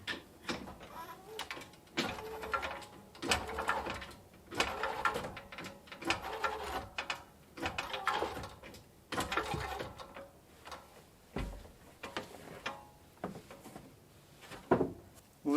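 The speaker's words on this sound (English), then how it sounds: "Let me see what happens if I start jacking it up." A jack lifting a large unit inside a bus, heard as repeated mechanical ratcheting and creaking strokes in irregular bursts with short pauses between, fairly close and moderately quiet.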